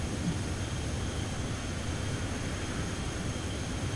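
Steady broadband drone of an airplane engine in Microsoft Flight Simulator 2024 on PS5, a flight from Telluride to Jackson Hole, holding even and loud throughout with no talking.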